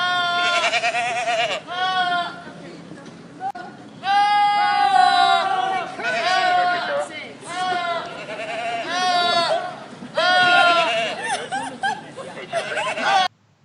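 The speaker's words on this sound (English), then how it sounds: "goat screams can sound a lot like Humans" Goats scream in a run of loud, human-like bleating cries, several long wavering calls separated by brief pauses.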